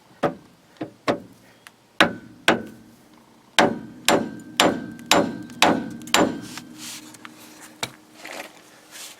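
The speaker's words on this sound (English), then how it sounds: "That one there, I tapped it in with a hammer" A hammer taps a tapered steering joint into place on an LS-swapped 5.3 Firebird, a series of sharp metallic strikes in uneven rhythm, about a dozen close, loud blows with ringing decay.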